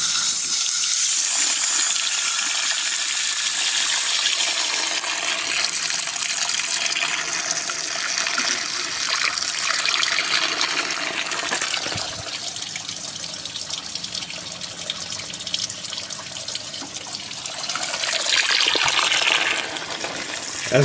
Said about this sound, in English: Just squirt a little water in there and let it run through.